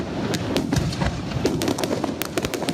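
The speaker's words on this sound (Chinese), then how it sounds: "烟火嘛放甲真大声" Fireworks bursting at a temple procession at night, a rapid irregular string of sharp cracks and pops over a continuous crowd-like rumble, loud and close.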